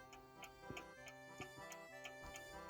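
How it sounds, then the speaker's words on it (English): A French antique table clock ticks softly and steadily, its quiet, evenly spaced tick-tock beats repeating about every two-thirds of a second in a near, hushed setting. "These movements tick softly, so I use a funnel to hear it better."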